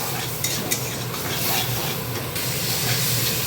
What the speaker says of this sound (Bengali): আদা না রসুন কাঁচা লঙ্কা পেঁয়াজ বাটা এটাকে দিয়ে একটুখানি কষিয়ে নিতে হবে ভালো করে